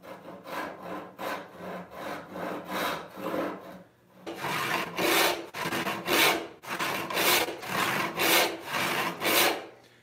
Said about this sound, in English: a live stream of me resawing this 8-inch wide panel